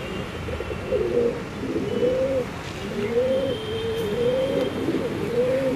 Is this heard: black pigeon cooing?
yes